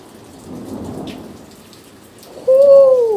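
Heavy rain pours through a hailstorm in Hemet, with thunder rumbling in the low end, and a sharp, falling whistle-like tone cuts in near the end.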